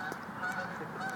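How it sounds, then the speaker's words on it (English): Wild Canada geese honking in a steady, overlapping chorus, several calls close together over a continuous flock murmur, moderately loud and with no voices. "And some wild Canadian geese."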